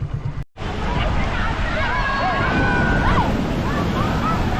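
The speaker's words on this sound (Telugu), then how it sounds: "సముద్రం ఫుల్ పోటు మీద ఉంది" Sea surf rolls at full high tide on Mypadu beach as a continuous wash of breaking waves, with wind buffeting the microphone and a crowd's chatter and shouts mixed underneath after a brief dropout at the start.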